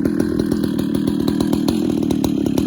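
A Husqvarna 2100 chainsaw fitted with a Stihl bar and skip tooth chain runs at a steady high rev, a loud, close, buzzing two-stroke drone with rapid pulsing throughout.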